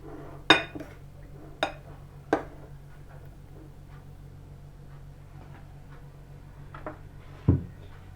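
A utensil stirring a meat and pickle mixture in a bowl, with a few sharp metallic clinks against the dish spaced irregularly over a quiet, soft mixing background.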